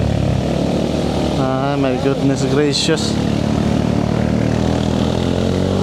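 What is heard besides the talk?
camera drone flying, propeller buzz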